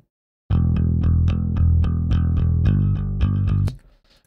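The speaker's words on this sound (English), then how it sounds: "So now the bass is what that amp track was. I just bounced it down to a stem here." Bass stem bounced down from an amp track plays back alone, a steady run of evenly spaced plucked notes with a strong low end, ending abruptly near the close.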